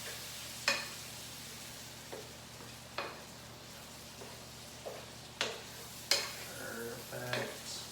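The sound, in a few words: onions and celery sautéing in butter in a pan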